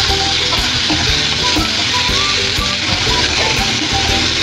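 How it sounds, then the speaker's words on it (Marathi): Chopped tomato with spices and onion frying in a pan for a spicy village-style dried-fish (sode) chutney, giving a steady loud sizzle with occasional stirring scrapes throughout, no talking. "त्यात आपण हा बारीक चिरलेला टोमॅटो, एक टोमॅटो मी चिरून घेतलाय तो टाकते।"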